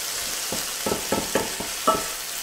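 Tomato concassé cooks down in a pan to drive off its water, giving a steady soft sizzle with several brief scraping stirs spaced across the moment, close and moderately quiet with no talking.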